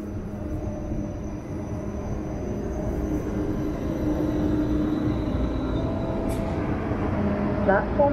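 A train rolls into a platform at Leipzig Hauptbahnhof with a low, steady rumble that grows slightly louder and ends in a brief faint squeal, amid station hall ambience and voices.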